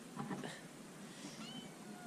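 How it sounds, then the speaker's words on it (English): A kitten meows faintly a few times in a quiet room where children's pot holders are being sewn: short, thin mews near the start and another brief one later. "Ooh, here comes the kitten."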